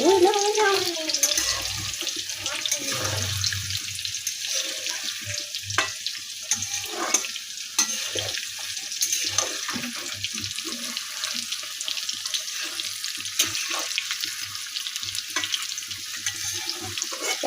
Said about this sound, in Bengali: এখানে আলুগুলো প্রথমে ভেজে নিচ্ছি হালকা হালকা করে